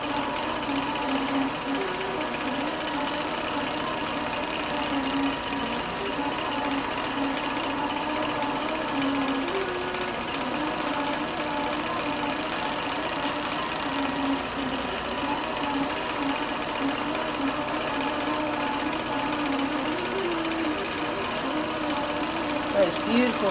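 Longarm quilting machine stitching straight lines across a quilt at speed, a steady mechanical hum and rattle with the machine bouncing slightly, running continuously throughout.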